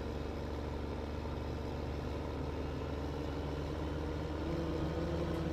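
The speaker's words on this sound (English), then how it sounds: "once you get above about 20 miles an hour with a rig or a tractor, your tires start howling." In Farming Simulator 15, a steady, continuous low drone of a heavy truck rolling along above about 20 mph, tires howling, with a constant rumbling hum and no talk.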